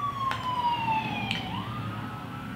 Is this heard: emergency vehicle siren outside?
yes